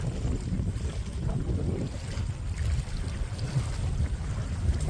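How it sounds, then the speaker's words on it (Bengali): Steady wind gusting in off the Ganges at a cremation ground at night, a constant low roar buffeting the microphone with rumbling surges and no voices. "এটা গঙ্গার হাওয়া বইছে, আপনারা যে শব্দটা শুনতে পাচ্ছেন গঙ্গার হাওয়া।"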